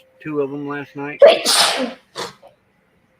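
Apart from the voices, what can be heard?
sneeze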